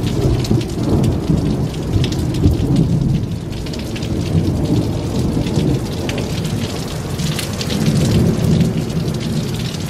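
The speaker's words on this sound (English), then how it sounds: "The thunder sounded like it started here and moved all the way across." A thunderstorm heard from a house: heavy rain pours steadily while low thunder rolls and swells through it, loud and continuous, with no voices.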